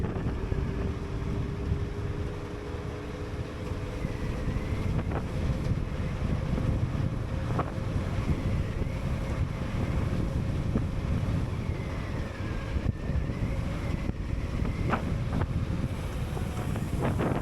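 An EMOVE RoadRunner Pro electric scooter runs at top speed along a road, heard as constant loud wind rush and road rumble with a faint motor whine underneath and no talking.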